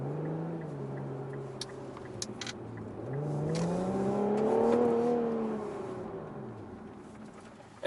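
An Infiniti Q50 S Red Sport's engine hums at low revs, then climbs into a rising, revving surge before easing back, heard from inside the moving car with no talk.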